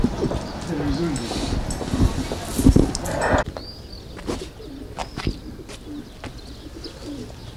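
Pigeons coo softly on a quiet street in Mardin, their repeated calls mixed with voices and background noise that drops partway through.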